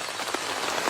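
Heavy rain pouring down outdoors, a dense, steady hiss of drops striking surfaces across a brief moment with no voices.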